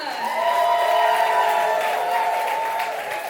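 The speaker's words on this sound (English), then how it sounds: "Audience, please make some noise if you want to hear more from Adam Amawala." An audience at a New York City comedy show claps and cheers loudly together, with a few whoops over a steady wash of applause that eases slightly toward the end.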